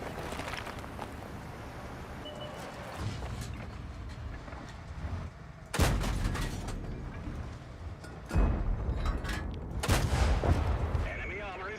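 Concept 5 tank guns firing in World of Tanks: three loud, booming cannon shots a few seconds apart, each cutting through steady rumbling engine and battle noise.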